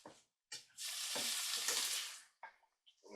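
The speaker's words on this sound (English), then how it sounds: "let's give these a mix so we can get some of that oil coated on there" Bacon and vegetables are stirred in oil in a pan: quiet scraping strokes and soft sizzling bursts come in short separate pushes, with one longer hiss in the middle, close and faint.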